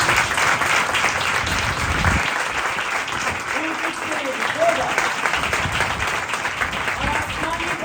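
Loud, sustained applause from a church congregation at a Sunday service, continuous clapping across the whole stretch with faint voices mixed in.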